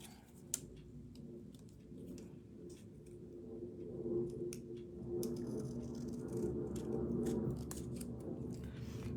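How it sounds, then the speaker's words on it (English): Scissors snip through paper to cut a fishtail shape into a layered ink-blended card, a steady run of close, crisp clicking cuts with no talking. "I'm just going to cut a fishtail on one side."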